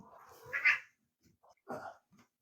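A pet cat meows close by, a loud drawn-out call followed by a shorter second meow after a brief pause, with a few faint soft sounds between.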